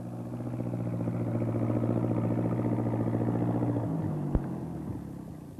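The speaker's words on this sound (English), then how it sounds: "He's going to try to get through with his tractor." A tractor drives through floodwater in a 1981 children's animation, a steady mid-pitched engine rumble and clatter holding throughout, with a brief sharp knock near the end.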